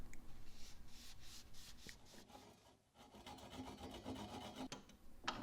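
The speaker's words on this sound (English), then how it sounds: "I sanded with the micro mesh pads in between the coats" Micro mesh pads sanding a wood-turned ice cream scoop between coats of wood turner's finish, a soft steady rubbing rasp in repeated strokes, close and quiet with a brief pause midway.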